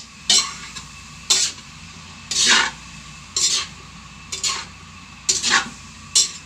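Cabbage is stir-fried with a little soy sauce in a pan for pancit: bursts of spatula scraping and stirring come every second or so over a soft, steady sizzle.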